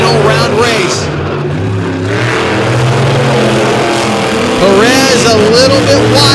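Race cars scream around the Lake Erie track in a final round race, their engines rising and falling as they pass. A commentator talks over the racing throughout.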